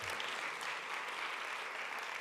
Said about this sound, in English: I propose you to applaud.